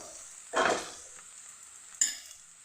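Potato masala with pepper powder frying gently on low heat, a soft steady sizzle broken by two scraping stirs of a spoon against the pan, the second ending in a sharp metallic clink.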